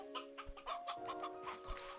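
Hens in the video game Slime Rancher 2 cluck in quick, soft bursts, several short calls close together with no talk over them.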